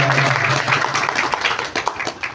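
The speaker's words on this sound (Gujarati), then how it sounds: "આખો પરિવાર એકવાર તાળીઓથી વધાવો" An indoor religious gathering breaks into a steady round of hand clapping, dense and continuous across the hall, with a faint voice speaking underneath.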